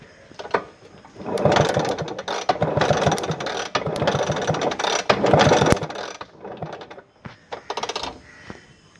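A Bajaj Chetak scooter being kick-started after standing unused for a long time, with a suspected ignition current problem: a busy run of rapid mechanical rattling and clicking that stops abruptly, followed by a few separate clicks.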